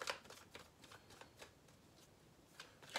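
Tarot cards being shuffled for a reading make soft, quiet riffling bursts that repeat at an uneven pace, with no talking.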